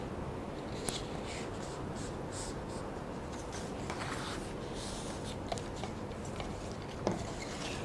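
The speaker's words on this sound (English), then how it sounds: "So next I will fold along the dotted lines" Paper is folded along dotted lines and creased flat, giving a steady soft rustle with occasional sharper scrapes and taps, close and quiet.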